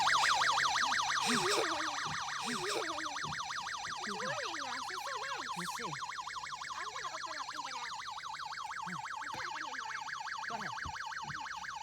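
Inside a car holding dry ice, an oxygen monitor's low-concentration alarm wails in a fast, repeating up-and-down warble that stays loud and steady, while a person speaks briefly over it.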